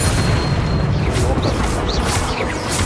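Explosive Confringo spell blasts in the wizarding game Hogwarts Legacy, a series of loud bursts and whooshing impacts over a busy, dense background, with a voice speaking.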